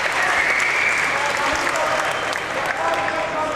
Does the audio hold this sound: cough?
no